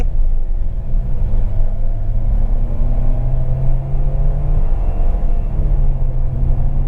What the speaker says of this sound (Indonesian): sekarang kita akan coba ke sana untuk tarik, coba gasnya seperti apa ya